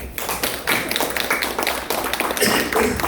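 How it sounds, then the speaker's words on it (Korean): Audience applause at a Korean speaking event, a dense crowd of hands clapping steadily and loudly for about three seconds with no talking over it. "박수 한번 주십시오"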